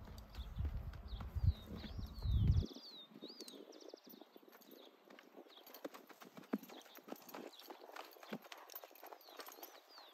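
A gelded criollo horse trots and stops while being worked in circles, its hooves giving steady, close clip-clops on the ground, with birdsong and a low rumble early on and no voices.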